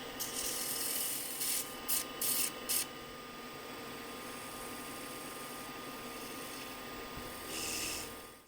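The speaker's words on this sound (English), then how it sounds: "So just a little bit of sanding." Steady abrasive rasping of sandpaper against a wooden box spinning on a lathe, with a few short bursts of harsher scratching early and a constant motor hum underneath.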